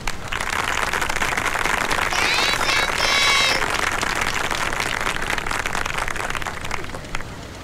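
A large crowd claps loudly and steadily, with brief whistles partway through, then tapers slightly near the end.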